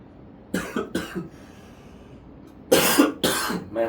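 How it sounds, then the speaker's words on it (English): A person with a cold coughs in two separate bouts, a few short hacking coughs, a pause, then louder harsh coughs close by, with no other sound between them. "Man, I have this cough from the cold."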